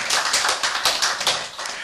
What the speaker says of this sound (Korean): 귀한 강의 해주신 목사님께 크게 박수 한번 해주시기 바랍니다.